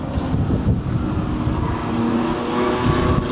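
Race cars roar around a track during a charity race, a dense steady engine drone from several cars blending together, loud and continuous without speech.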